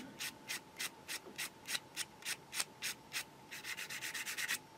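Rhythmic sanding strokes on a small plastic model tank part, a Takom Chieftain Mk.10 kit, evenly spaced back-and-forth rubs that quicken into a rapid burst near the end, close up and quiet.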